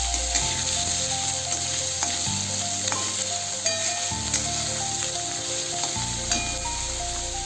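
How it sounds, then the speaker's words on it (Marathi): Onion with curry leaves sautéing in a pan, a bright continuous sizzle with occasional stirring clicks and scrapes, close and steady while a low background tone hums underneath. "कांदा कांदा आपण परतून घेऊया आपण एकदम लाल नाही करायचा थोडासा परतायचा"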